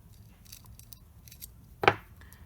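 A 12V car power outlet is pulled apart by hand, giving one sharp, close click-snap of plastic and metal separating, followed by faint handling rattles.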